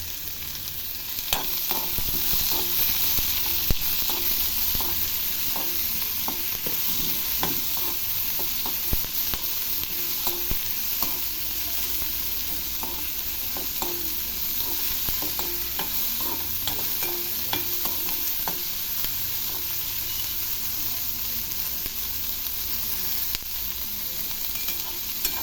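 Onions with a little cumin sizzle steadily in a kadai, a continuous bright frying hiss with frequent scraping stirs throughout, close and even, no voices.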